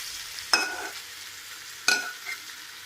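Marinated chicken tipped into sautéed onions and curry leaves for a Kerala-style chicken roast, giving two sharp sizzling bursts with a clink of the utensil, then a soft crackle between them. No one speaks.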